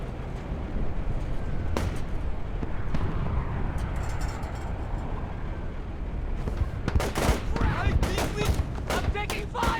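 Gunfire in Splinter Cell Chaos Theory, scattered sharp shots through a noisy battle rumble, then a dense cluster of loud rapid cracks near the end, with voices talking in places.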